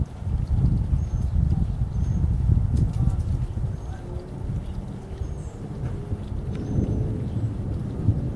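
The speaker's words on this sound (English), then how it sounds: "Waiting for the thunder." Thunder from a monsoon thunderstorm over California, a low distant rumble that swells and rolls for several seconds, then fades to a quieter murmur.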